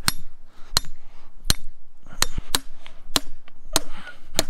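A hammer cracking cast iron scrap during street scrapping: about nine sharp, loud, ringing metallic strikes at irregular intervals, close by, with quiet gaps between.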